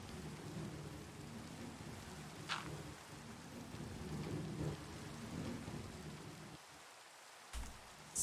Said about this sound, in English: somebody turned on the rain before